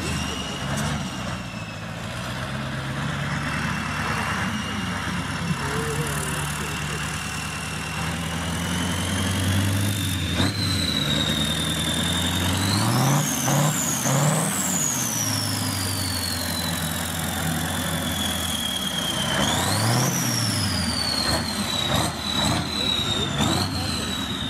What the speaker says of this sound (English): This tractor of old years is modernized. The wheels have been replaced and a very powerful motor has